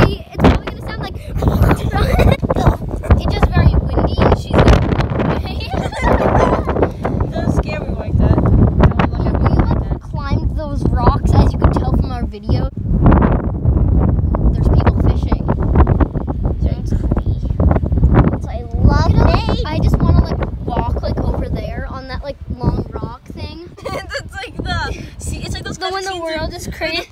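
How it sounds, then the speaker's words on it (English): Strong beach wind buffets the microphone with loud, continuous rumbling gusts that barely let up for the whole stretch, and a voice can be heard faintly through the roar. "Whoa, it's windy!"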